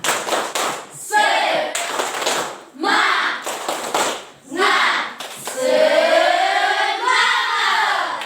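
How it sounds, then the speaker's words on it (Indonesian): A classroom of students performs the rhythmic 'tepuk semangat' clap, with loud bursts of group clapping in a patterned beat alternating with voices chanting along. "Tepuk semangat."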